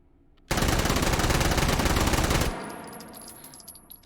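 A K50-M submachine gun with its stock extended rattles off one loud, sustained two-second burst of rapid automatic fire in a VR shooting game, then cuts off, leaving a faint ringing tail.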